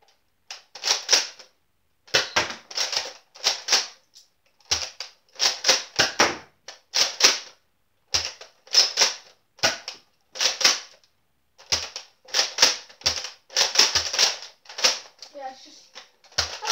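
A Nerf blaster fires in rapid clusters of sharp plastic clacks, repeated bursts with short pauses between them over about seventeen seconds, close and crisp during a Nerf shootout.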